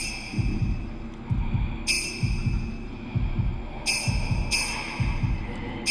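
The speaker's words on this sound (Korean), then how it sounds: "나의 심장 소리가 들려." A steady heartbeat throbs in the Japanese horror game Shadow Corridor, low double thumps repeating at an even pace, with occasional high, bright chime-like tones ringing above the pulse.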